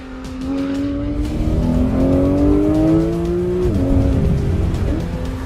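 A Porsche 911 GT3 engine wails toward its 9,000 RPM redline, a loud, close, rising howl that climbs steadily, briefly drops at a shift and then carries on, with faint tire noise underneath.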